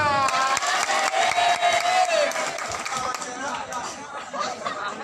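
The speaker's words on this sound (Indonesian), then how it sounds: "Nah, tepuk tangan." Crowd applause at an outdoor religious gathering, a scattered burst of clapping mixed with chatter, while a voice keeps talking over the noise.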